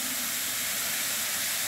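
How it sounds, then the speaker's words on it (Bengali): Carrot frying in oil over a medium flame gives a loud, steady, dense sizzle and hiss that stays unbroken from start to end, with no voices. "এই তেলেতেই আমি গাজরটা ছেড়ে দিচ্ছি, ওটাকে ভাজা ভাজা করে"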